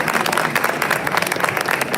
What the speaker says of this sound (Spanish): a mí me gustaría que ustedes le dieran un aplauso